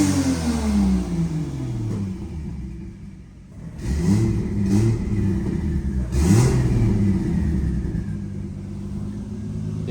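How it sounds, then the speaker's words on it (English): The turbocharged 2JZ in a Nissan S14 rumbles loudly at idle, then revs several times with rising and falling blips, heard close up and continuously with no talking. "It's still running. Temperatures look good. Sounds good. Throttle's up good."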